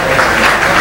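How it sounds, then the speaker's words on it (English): Congregation at a Sunday church service applauding for a doctor after a health talk, a dense, steady wash of many hands clapping together, fairly loud and continuous with no voices. "Let's clap well for the doctor."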